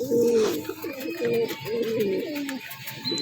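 Pigeons cooing in low, rolling phrases that repeat steadily, close by, with a faint high whistle running in the background.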